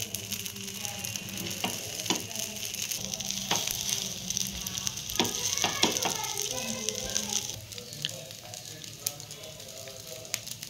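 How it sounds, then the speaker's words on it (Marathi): Dabeli buns roast in plenty of butter on a hot pan for Kutchi dabeli, giving a steady close sizzle and frying crackle throughout, with occasional scraping and tapping clicks from a spatula. "याच्यावरती एक एक असं आपण दाबेली टाकून घ्यायची आहे आणि रोस्ट करून घ्यायची आहे"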